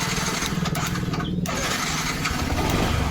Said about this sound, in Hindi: देखिए ये स्टार्ट बाइक हो गया हमारा